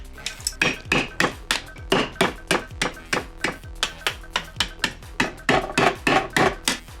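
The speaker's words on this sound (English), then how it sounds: "I'm going to remove as much as I can with just a chisel and hammer" Steady, evenly spaced hammer blows strike a chisel, each a sharp metallic clink, repeating about three times a second, close and loud.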